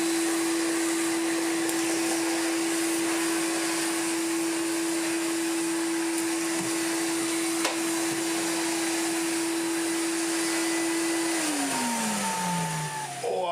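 A corded commercial vacuum cleaner runs with a loud, steady whine and airflow roar. It holds a constant pitch, then winds down audibly near the end as the motor is switched off.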